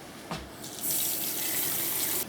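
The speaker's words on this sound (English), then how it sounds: "He's now going to add water." Tap water gushes into a heavy-bottomed pan for quiet quince jelly, a short splash followed by a steady hissing pour lasting under two seconds.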